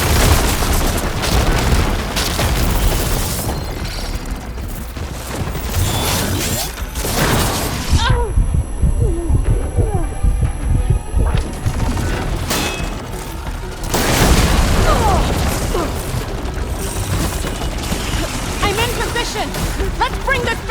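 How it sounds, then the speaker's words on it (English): Heavy mechanical booms and crashing impacts from a machine battle in Horizon Forbidden West, the Denox firing ballista shots, loud and dense with a quieter gap midway before impacts resume, mixed with game voices. "Hopefully the Denox will fire a few shots from that ballista."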